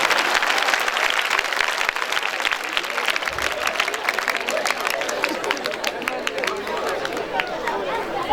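Applause from a crowd at a comedy show, dense and steady throughout, with murmuring voices mixed into the clapping.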